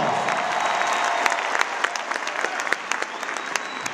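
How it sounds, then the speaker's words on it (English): Crowd applause for Baltimore mayor Sheila Dixon, a dense, steady wash of many hands clapping at an indoor political rally, loud and continuous for the whole stretch with sharper individual claps popping out. "Let's give her a big round of applause."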